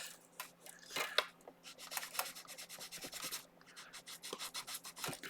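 A Brillo pad scrubbing the high frets of a Cort Ouija electric guitar, with quick, uneven scratchy strokes that come in close, quiet bursts and pick up into a faster rubbing rhythm toward the end, with no talking.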